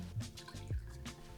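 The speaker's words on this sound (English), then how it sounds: "So I got my beer, pour myself a little shot." Rum is poured from a bottle into a small shot glass, a brief liquid dribble and fill sound close up with no talking.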